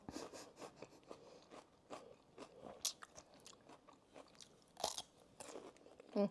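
A pet crunching cucumber slices nearby, quiet bursts of crisp biting and chewing in an irregular rhythm with small rustles between bites.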